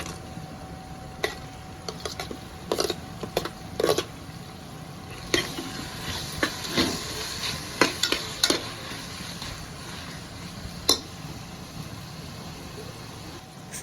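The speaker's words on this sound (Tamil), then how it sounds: "வெங்காயமும் தக்காளி போட்டு நல்லா வதக்கிக்கலாம்." Onion and tomato fry in a pan for Hakka noodles, a low steady sizzle punctuated by irregular clacks and scrapes of a spatula stirring, close and fairly loud.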